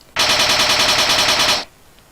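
A rapid burst of automatic weapon fire from an indie video game, about a second and a half of evenly spaced shots at loud, close level, then stopping abruptly into quiet.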